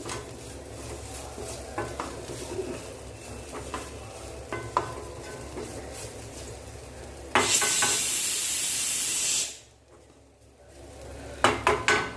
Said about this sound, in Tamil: அப்படியே நல்லா வதங்கட்டும் ஒரு லைட் ப்ரௌன் கலர் வருங்க